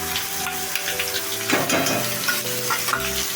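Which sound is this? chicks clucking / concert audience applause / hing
hing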